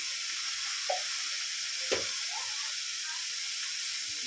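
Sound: cabbage frying and being stirred with ground spices

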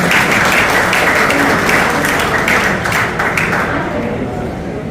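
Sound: applause at retirement ceremony

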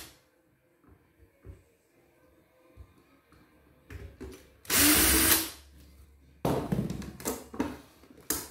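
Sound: screws being removed from robot vacuum battery cover

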